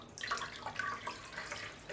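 Water poured into a container while making tallow soap, a faint, close trickling and splashing that runs unevenly for about two seconds with no talk.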